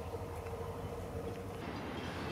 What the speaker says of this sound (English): I think we've got a train finally.